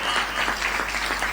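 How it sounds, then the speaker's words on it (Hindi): Brief burst of audience applause at a Hindi poetry recitation, dense, even clapping from a crowd that stays at a moderate level throughout the short stretch. "तालियां कमजोर हैं आपकी।"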